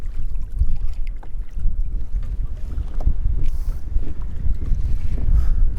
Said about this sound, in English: There goes the wind. Well, there goes the wind.